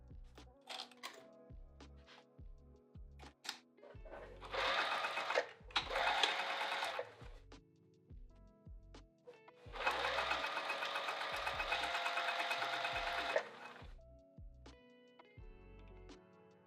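A sewing machine runs in two bursts of fast, close stitching, one short and one longer, separated by quiet clicks and handling knocks of fabric being adjusted, with no one speaking.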